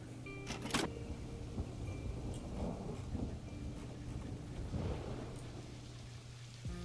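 A thunderstorm in the game Planet Coaster 2 gives a sharp crack of thunder near the start, then steady rain hisses on behind it at a low, even level.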